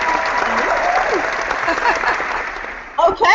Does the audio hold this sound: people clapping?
yes